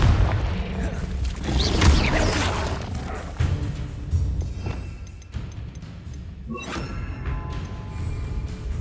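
Confringo blasting curses exploding in Hogwarts Legacy on PS5: booming blasts and crashing impacts rise and fall amid the game's effects, with a voice speaking at times over the action.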